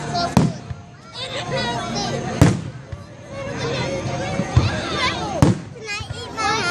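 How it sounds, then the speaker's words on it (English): Fireworks at a park display at Tom Brown Park in Tallahassee, Florida boom in three sharp bursts spread over several seconds, under steady chatter from nearby adults and children. "You gotta watch the fireworks, Libby."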